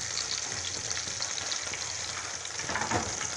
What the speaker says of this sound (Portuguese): Fritando empanado.